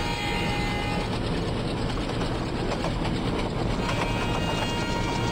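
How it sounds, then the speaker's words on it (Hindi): Express train in the Open Rails simulator running at speed through a station, a steady dense rail rumble with faint rhythmic clatter and mechanical ticking throughout, no voices. "हमारी ट्रेन काफ़ी स्पीड से यहाँ पे क्रॉस कर रही है इस स्टेशन को।"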